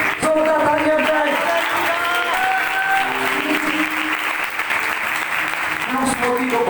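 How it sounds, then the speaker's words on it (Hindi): A congregation at a Christian gathering in Karachi applauds loudly and steadily throughout, with a sung or spoken voice carrying over the clapping. "जोरदार तालियां बजाएं"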